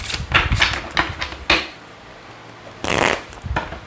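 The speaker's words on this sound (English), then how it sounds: "I'm going to give this 5 shuffles" Tarot cards being shuffled by hand in a few separate bursts of riffling, crisp papery rustles with short pauses between, close to the microphone.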